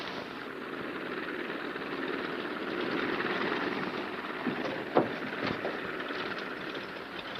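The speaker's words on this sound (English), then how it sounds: "There's another plane coming in." A propeller airplane from a 1942 wartime film drones in overhead, a steady, fairly loud engine roar that swells slightly, with a few sharp knocks and a brief bang near the middle.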